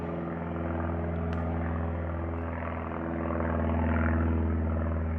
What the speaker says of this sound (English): We got a helicopter heading over ahead of us.